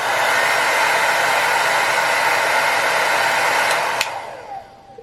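A T3 hair dryer blows steadily on its second setting, a smooth, even broadband whoosh held close and fairly loud, then switched off near the end as the airflow winds down and fades.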